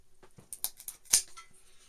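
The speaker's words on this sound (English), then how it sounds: "You can just cut these with scissors" Scissors snip through the tip of a thin wooden piece, giving a few quiet clicks and then one sharp, louder cut near the middle, heard close up and alone.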